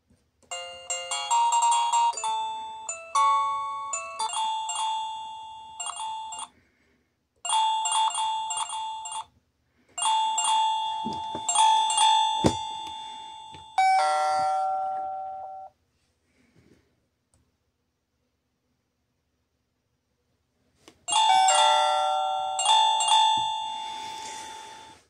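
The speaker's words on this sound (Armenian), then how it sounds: "Մենք կարող ենք նաև փոփոխել զանգի ձայնը" Tuya wireless smart doorbell chime playing a run of different melodic ring tones, loud and close, in bursts separated by short pauses and one longer silence before a final tune.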